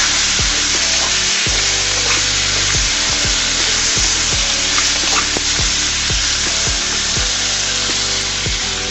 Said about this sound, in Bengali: দিয়ে সিমগুলোকে আলুর সাথে একসাথে আমি ভেজে নিব